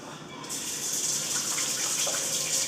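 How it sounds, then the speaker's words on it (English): Tap water runs steadily into a sink for hand washing in a home kitchen, a broad, even gush that starts abruptly and continues close by without talk. "Wash my hands real quick."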